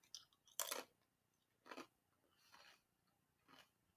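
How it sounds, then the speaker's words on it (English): Crisp crunching bursts from chewing food, close and fairly loud, arriving in four irregular bites spaced about a second apart with quiet gaps between, no talking. "This crunching is probably pretty loud."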